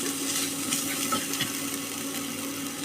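Crushed ginger and green chillies stirred in a pan with no added oil, giving a steady soft sizzle with faint scraping of the spoon, close and continuous for a few seconds.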